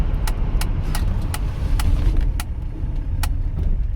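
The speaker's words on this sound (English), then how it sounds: "here's some scraping, but she came to a stop" An old Mercedes 300CD slows to a stop with its brakes scraping, heard as a steady low road and engine rumble from inside the car. Sharp, regularly spaced ticking clicks run over it.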